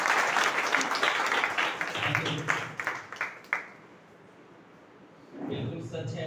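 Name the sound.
audience applause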